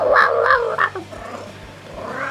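A cat meows close by indoors, a few drawn-out wavering calls in the first second followed by quieter murmuring sounds, with no talk over it.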